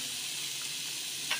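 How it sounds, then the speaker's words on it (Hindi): Chicken sizzles with other ingredients in a frying pan, a steady close hiss of hot oil filling the whole short stretch with a slight stir or clatter near the end. "थोड़ा सा फ्राई करेंगे इन चीज़ों के साथ"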